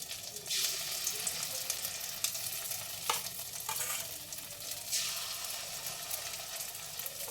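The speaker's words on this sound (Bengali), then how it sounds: "বড়াটা লাল লাল করে ভেজে নিয়েছি" Prawn shell and prawn paste fritters frying in hot oil, a dense continuous sizzle with bursts of louder spattering and a few sharp clicks, close and without speech.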